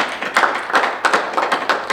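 Council meeting audience clapping together in a hall, a dense, steady patter of many hands with slightly louder swells, continuing throughout at close to moderate distance without speech.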